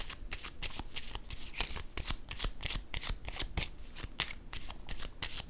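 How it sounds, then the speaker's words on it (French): Tarot cards shuffled steadily by hand, a dense run of crisp riffling slaps and papery flutters close up, continuous and fairly loud with no voices over them. "Allons-y avec une autre carte."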